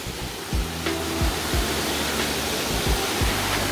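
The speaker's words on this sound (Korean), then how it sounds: "매골대 폭포. 물보라가 치네요." Maewoldae waterfall in a cold Cheorwon mountain valley pours and sprays in a dense, continuous roar of falling water. A few low thumps sound beneath the rush, and no one talks.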